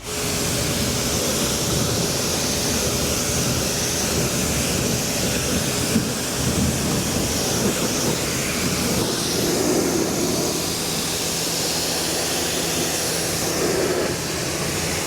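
Water sprays steadily onto a car during a rinse, a loud continuous broadband hiss that holds throughout without pause or talk.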